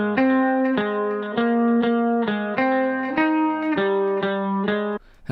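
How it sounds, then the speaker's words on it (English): A dry guitar loop sample plays a sequence of plucked, sustained notes in a steady rhythm, each attack clear and close, with little ambience before cutting off near the end. "So I got this guitar loop here."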